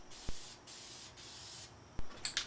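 A spray can lays gray primer onto old bicycle parts during a restoration, giving long hissing bursts broken by short pauses, with a couple of sharp clicks from the nozzle and small rattles near the end.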